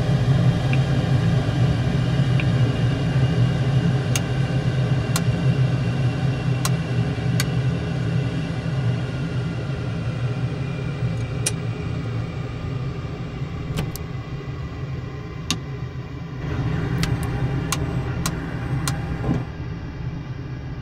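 Steady low engine rumble of an F-35B jet in Microsoft Flight Simulator 2020, a continuous loud drone with sharp brief clicks scattered over it and a slight swell near the end.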